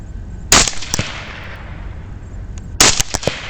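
A rifle fires at a hog across a lake at night: two sharp, loud shots a couple of seconds apart, each followed by a rolling echo, with no voices.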